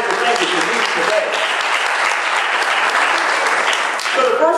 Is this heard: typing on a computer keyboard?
no